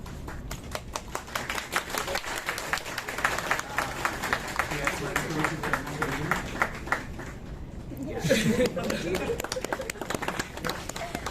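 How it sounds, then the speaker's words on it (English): After a lecture, a room audience claps in a moderate patter of many hands, with talk running through and over it. "Okay, and we normally clap."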